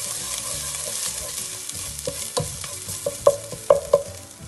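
Chole masala with amchur powder is stirred and fried in a pan. A steady sizzle runs under it, and in the second half several sharp, close scrapes and clacks of the spoon against the pan stand out, with no voices.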